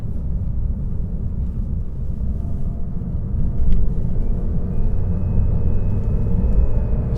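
A 2018 Lexus RC 300 F-Sport accelerates with active sound control switched off, heard from inside as a steady low engine and road rumble that swells slightly midway, fairly subdued throughout.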